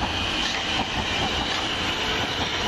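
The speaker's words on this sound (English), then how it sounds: "It's coming in now, the 10:46 Southwest train service from Basingstoke to London Waterloo." A South West Trains service from Basingstoke to London Waterloo pulls into Farnborough station with a loud, steady rumble of wheels on rails and a thin metallic squeal, with no voices over it.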